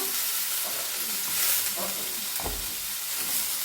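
Meat frying in a non-stick frying pan, a steady moderate sizzle with occasional stirring scrapes and a soft thump of the pan.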